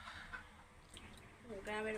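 Chickens kept by a village household cluck in quick bursts, the fowl noise swelling louder toward the end, mixed with a voice speaking nearby.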